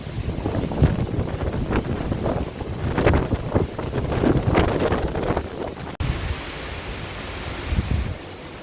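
Strong wind buffeting a cyclist on a canal towpath, loud continuous roaring gusts against the microphone, shifting to a steadier broadband rush partway through.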